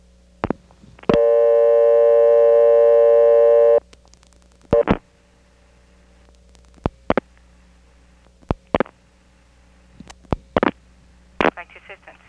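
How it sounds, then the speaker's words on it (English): A 1970s Carolina Telephone step-by-step exchange in Kenly, North Carolina answers the dialing for directory assistance with a loud, steady tone lasting a few seconds, then a series of sharp, separated clicks from the switching gear. "Services like directory assistance are reached by dialing the prefix digit 7 plus 411."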